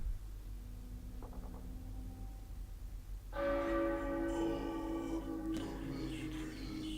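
In Apex Legends, a round timer bell chimes as the ring prepares to close, a bright ringing tone entering midway over steady game ambience and lingering with a resonant decay.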